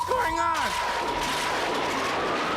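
A magical crystal explosion in a fantasy story bursts out with a loud crackling blast and falling whooshing tones, followed by a sustained rumbling roar that fills the rest of the moment.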